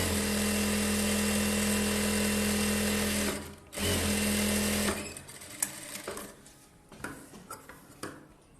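Electric tailoring sewing machine hemming a plain blouse for an elderly woman, a loud steady whirring hum for several seconds with a brief pause, then stopping into quieter handling clicks and rustles.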